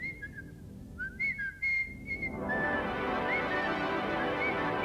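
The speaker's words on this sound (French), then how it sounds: "Alors, chevalier, siffle." Someone whistles a series of short rising and falling notes, clear and close, before a broad, steady rushing noise takes over and the faint whistles continue beneath it.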